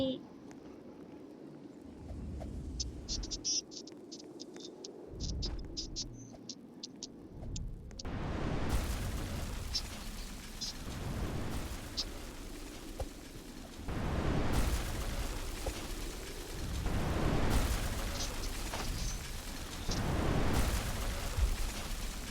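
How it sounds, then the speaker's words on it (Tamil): Fireworks burst in the night sky, a series of loud, booming blasts and crackles repeating every few seconds while people shout and talk nearby. "வானவெடி"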